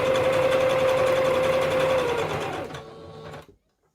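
A sewing machine stitches a fabric pocket with a steady loud whirring hum, then slows and stops abruptly into silence near the end.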